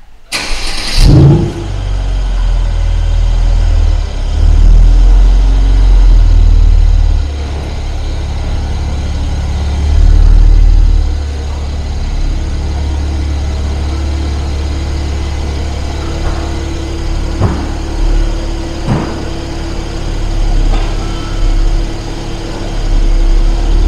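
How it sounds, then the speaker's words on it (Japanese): Mercedes SL400, lowered on an IID lowering kit, opening its retractable roof: a steady mechanical hum runs under the car's loud idling engine, with a couple of faint clicks near the end and no talk. "ちょっとこの車のですね、屋根をね、開けてみますので"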